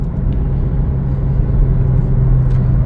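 A 2025 Chevrolet Trailblazer FWD LT pulls up to full speed on a street, its engine and road noise forming a steady, close, continuous low rumble with no voices.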